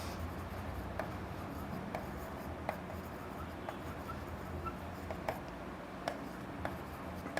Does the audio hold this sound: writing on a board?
yes